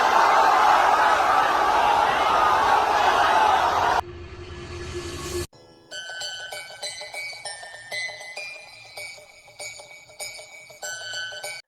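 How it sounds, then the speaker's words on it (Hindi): A huge crowd of fans gathered outside Shah Rukh Khan's house on his birthday makes a dense, loud roar for about four seconds before it cuts to chiming, bell-like music. "शाहरुख के जन्मदिन पे उनके घर के बाहर लाखों फैंस की भीड़ जमा हो जाती है"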